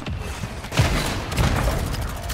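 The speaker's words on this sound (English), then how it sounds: "Damn it, the mortar got me." Mortar shells in the battle royale game Warzone erupt as a dense, rumbling barrage of booms and thuds, two heavier impacts standing out mid-clip against constant loud crackling with no pause.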